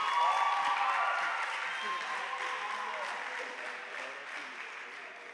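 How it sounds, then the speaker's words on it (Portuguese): A church congregation claps steadily in sustained applause that slowly fades a little over several seconds. "Salve de palmas para ele, por favor."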